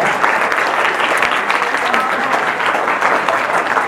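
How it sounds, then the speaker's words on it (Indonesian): Students in a classroom during a religious talk break into loud, steady applause, dense clapping that continues throughout with voices mixed in beneath it. "Boleh tepuk tangan di sini boleh?"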